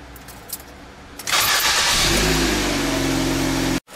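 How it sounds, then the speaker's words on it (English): A Ford vehicle starts after a brief light clink of keys. The engine cranks, catches and settles into a loud, steady idle close by, then the sound cuts off abruptly near the end. "Let it prove out. And then we're going to start the vehicle."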